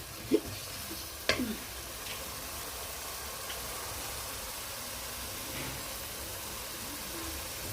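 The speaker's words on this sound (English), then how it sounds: "There goes in the potatoes." Potatoes tipped into a pot of cooked, crushed tomatoes for pilau, with a steady close sizzle and frying hiss running throughout and a couple of sharp clatters near the start.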